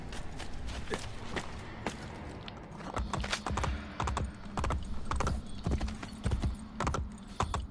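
A horse galloping in Assassin's Creed Brotherhood, its hooves landing as a run of quick, close clip-clop thuds in an uneven rhythm.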